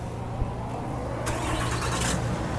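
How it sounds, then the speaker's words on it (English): A 2016 Ram 3500 with a 6.7L Cummins turbo diesel, started by remote, settles into a steady low idle rumble that is fairly close and continuous, and a brighter hiss rises partway through. "Just hear that diesel engine,"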